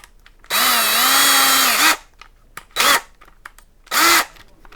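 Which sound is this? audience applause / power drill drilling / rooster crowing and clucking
power drill drilling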